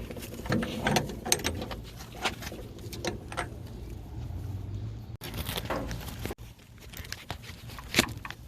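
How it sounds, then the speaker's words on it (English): A 1/2 inch ratchet with a cheater pipe works a bolt loose on a 1969 Mustang fastback, giving scattered clicks and clunks with a few louder metallic knocks nearby. "I'm gonna put the 1/2 inch on it and use a cheater pipe"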